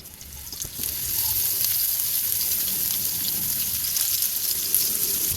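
Boiled cauliflower drops into hot oil in a pan and sets off a loud, steady sizzle of frying that starts about a second in and keeps going without a break.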